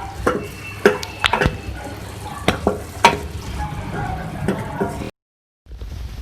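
Tomatoes cook in a pan of beef keema with green chillies, a steady sizzle broken by several sharp scraping stirs of the spoon, close and fairly loud, ending in a brief silence before the frying resumes.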